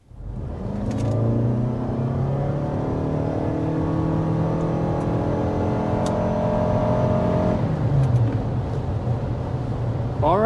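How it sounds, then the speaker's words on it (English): A 2023 Toyota RAV4 Hybrid accelerates hard from inside the cabin, engine drone climbing steadily in pitch, dipping briefly as it shifts, then rising again, loud and continuous. "Off to the races with the RAV4 Hybrid."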